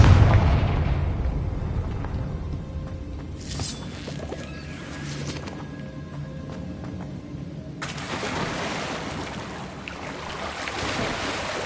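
A Confringo fire-blast spell goes off in a Hogwarts wizarding video game, one loud booming burst at the start that fades into a low, rumbling ambient tail with softer hissing effects later.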